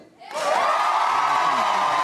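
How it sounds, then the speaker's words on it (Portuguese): A studio audience on a Brazilian late-night talk show bursts into loud, sustained cheering and applause that swells quickly and holds steady. "Se você fala um negócio e termina falando do Brasil alto, eles já aplaudem."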